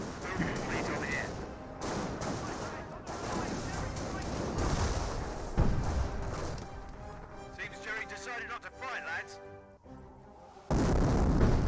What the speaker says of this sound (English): Incendiary mortar does fire, does destroy a carcass there